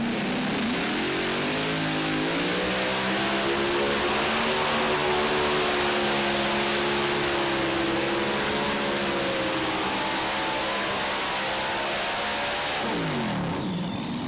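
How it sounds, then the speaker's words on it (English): A tractor pull truck powered by Noonan engines roars loudly and continuously, its pitch climbing and holding high in a sustained scream before dropping away near the end, heard across a noisy outdoor pulling track. "Get a pit size, take a look at those Noonan engines."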